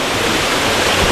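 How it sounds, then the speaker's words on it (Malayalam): A waterfall roars loud and close, a dense, unbroken rush of falling water that fills the whole moment without any pause or change. "സൗണ്ട് മാത്രമേ ഉള്ളൂ, പക്ഷെ വെള്ളച്ചാട്ടം കാണുന്നില്ലല്ലോ"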